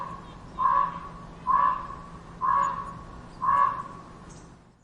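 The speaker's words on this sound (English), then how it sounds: "Ravens have a wide variety of calls, such as the aforementioned throaty croaks" A common raven gives four evenly spaced, throaty croaks, each about a second apart, clear and fairly close over a low background hum.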